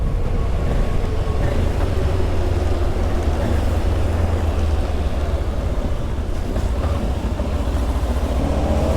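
A Voge 525 DSX motorcycle engine pulls in sixth gear at speed while riding, a loud, steady low rumble mixed with heavy wind roar throughout, no voices.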